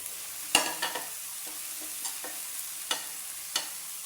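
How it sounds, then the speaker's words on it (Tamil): Capsicum, carrot and beans fry in a pan for a kichadi. Scattered close spatula stirs and taps sit over a light sizzle, with no one talking. "குடை மிளகாய் மல்லி இலை கேரை பீன்ஸ் எல்லாம் போட்டு நம்ம என்ன பண்ணணும் ஃப்ரை பண்ணணும்"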